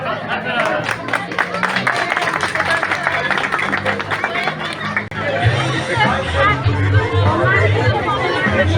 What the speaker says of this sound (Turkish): Alkışlayalım hadi